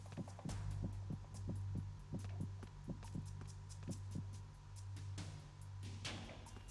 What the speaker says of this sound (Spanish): los latidos